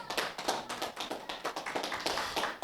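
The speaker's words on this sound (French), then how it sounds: "Est-ce que tu peux applaudir le Seigneur?" Church congregation applauding during a sermon, a dense run of rapid hand claps, fairly close and steady, with no talk over it.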